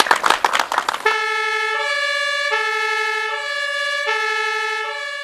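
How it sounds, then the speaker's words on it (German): Siren of a new fire engine, started for the first time at its handover: an abrupt switch at about one second into a loud, steady two-tone wail, high and low pitches alternating throughout, alone without talk. "Das erste offizielle Starten von Blaulicht und Sirene wurde Erik Zimmermann überlassen."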